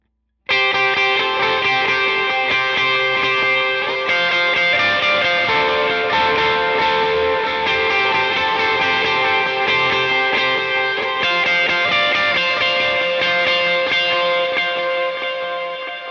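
Electric guitar runs through the chorus of a song with effects, dense sustained distorted chords with chorus shimmer, loud and continuous with no talking.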